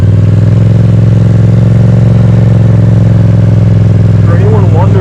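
A Yamaha FZ-07 stunt motorcycle engine runs steadily and loud up close, holding a low rumble throughout before a brief rise near the end.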